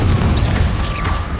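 Confringo fire spell going off in Hogwarts Legacy combat, a short, loud, low boom with rumbling crackle, close and dense over a busy battle background.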